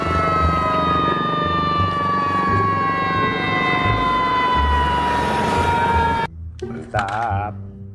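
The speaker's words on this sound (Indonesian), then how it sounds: "Wah, kita mendapatkan pemadam kebakaran." A toy fire engine's electronic siren wails loudly and continuously, its steady gliding tones cutting off abruptly near the end, followed by a short burst of a different warbling tone.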